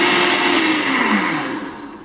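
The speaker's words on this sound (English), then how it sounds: "make sure your blender is covered and switched on." A kitchen blender whirs loudly and close up while blending tomato sauce made with sautéed garlic, its motor pitch gradually dropping and the noise easing toward the end.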